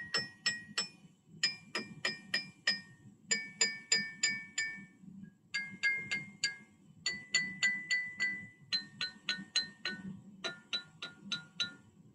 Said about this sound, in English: I like to tap on the handle of the glass.